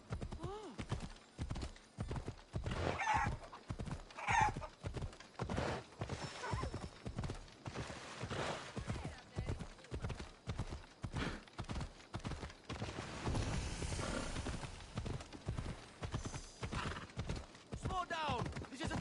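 Rapid, rhythmic hoofbeats of a galloping horse in the video game Assassin's Creed Odyssey drum steadily throughout, close and prominent, with occasional whinnies and a voice talking over the ride.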